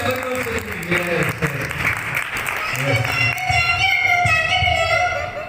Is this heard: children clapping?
yes